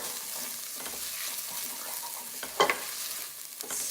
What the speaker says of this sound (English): Now I'm adding the ginger.